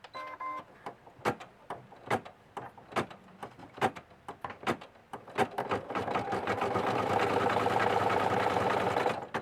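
An embroidery machine stitching down a bunny appliqué starts with rapid, regular clicks and taps, then settles into a steady, close, continuous mechanical whir with no talking.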